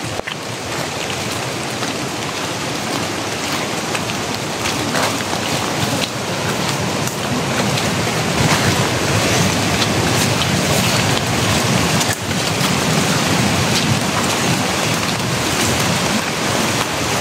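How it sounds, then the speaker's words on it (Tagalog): Floodwater rushes through a forest in a steady, dense roar. The torrent sounds loud and continuous, with no voices over it. "So, una namin tinahak yung rumaragasang tubig."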